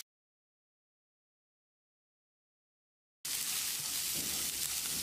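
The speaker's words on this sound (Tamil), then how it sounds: "1 கப் சின்ன வெங்காயம் எடுத்து வச்சுருக்கேன், இதை போட்டு வதக்கிடலாம்." Small onions sizzling in a pan, a steady close frying hiss that starts abruptly partway in after a stretch of silence and continues to the end.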